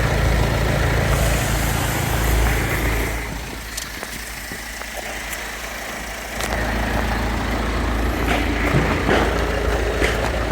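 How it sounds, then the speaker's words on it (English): A used car's engine idles steadily with a low continuous rumble, loud and close throughout, with a slight dip in level midway before settling back. "Engine sounds sweet enough."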